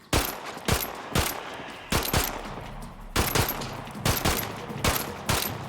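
Gunfire in the video game Ferocious aimed at velociraptors: bursts of sharp, loud shots in quick clusters, about a dozen cracks spread over a few seconds, close and punchy with no speech.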